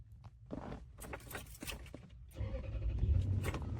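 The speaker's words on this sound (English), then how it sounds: "I'm going to start the car." A car engine cranks and turns over, its low rumble swelling and settling into a steady idle over the last second and a half, with faint shuffling and handling noises before it starts.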